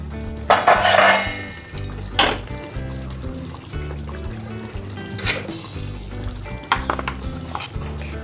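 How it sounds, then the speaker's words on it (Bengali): Metal pot lid lifted off a cooking pot of Bengali cabbage kofta curry with a sharp clank and rattle, followed by soft clinks of utensils over a faint simmering sizzle. "ঢাকাটা খুলে নিচ্ছি।"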